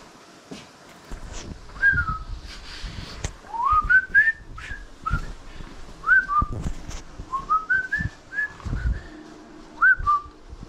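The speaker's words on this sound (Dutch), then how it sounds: "Zie je, als je erop fluit, dan komt hem." A person whistles a string of short rising and falling notes in bursts, close and fairly loud, with clattering and knocking noises in a kitchen between the phrases.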